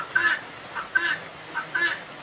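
Farmyard chickens clucking in the countryside, three short bursts of calls spaced about a second apart, fairly close and clear over quiet background.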